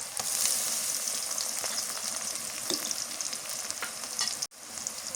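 Garlic paste sizzles and fries steadily in a hot pan while a utensil stirs it, giving continuous close crackling with scraping strokes and a brief break near the end, no voices.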